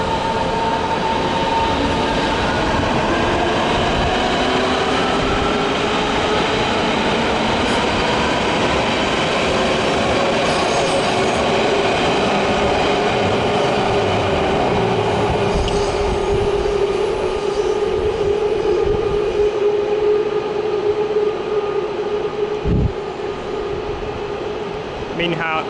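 An S-Bahn train pulls out of Berlin Hauptbahnhof with a loud, sustained rumble and whining motor tones, wheels rolling and squealing faintly on the rails throughout.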